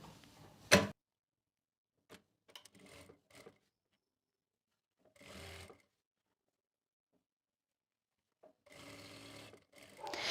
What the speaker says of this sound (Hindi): यहाँ से इस तरह से इसको फोल्ड करेंगे और यहाँ पे सिलाई लगा लेंगे।